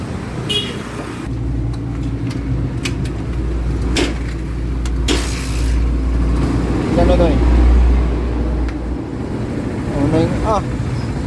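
A Barako 3 motorcycle with a fullwave charging fault idles steadily and close, its low engine drone running throughout while someone talks over it.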